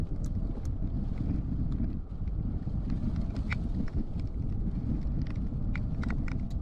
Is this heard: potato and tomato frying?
no